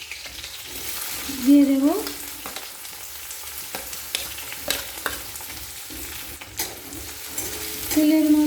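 Chopped onions sizzle in two spoons of oil with green chillies, a steady frying crackle with occasional stirring clatter, while someone briefly speaks.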